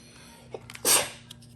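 A single sharp sneeze from someone nearby, a short loud burst of breath rising out of quiet room noise, with faint soft clicks just before it.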